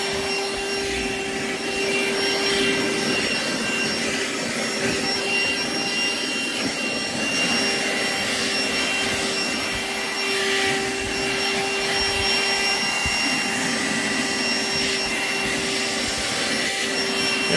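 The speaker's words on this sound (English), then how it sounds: "we will vacuum my seat" An Astro AI portable car vacuum cleaner runs on a car seat, a steady high-pitched motor whine with shifting airflow rush as the nozzle moves, close and continuous.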